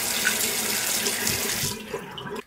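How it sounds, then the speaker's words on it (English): Tap water runs steadily into a bathroom sink during a shaving routine, a loud continuous splashing gush that cuts off abruptly near the end. "Put a little bit of water."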